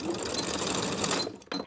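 Sewing machine stitching a basting line to hold elastic along the raw edge of a satin blouse sleeve, a rapid steady whir close up that stops, then a brief final burst of stitches.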